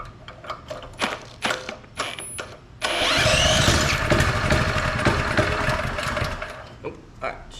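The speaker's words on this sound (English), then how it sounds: "Alright, she runs though. That's a good sign." A Honda GX200 small engine, once seized and now refreshed, runs after first being stuck, with a steady mechanical clatter that starts abruptly partway through and continues loud and close after earlier intermittent knocking.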